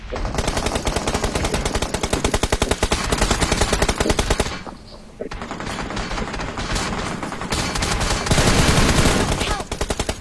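Rapid bursts of Beryl assault rifle fire in the PUBG video game, loud dense automatic shots with a short pause midway before firing resumes.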